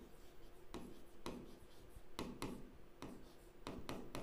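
Marker or chalk writing on a board during a coordinate geometry lesson, quiet scratchy strokes in short bursts with brief pauses between letters, close and faint.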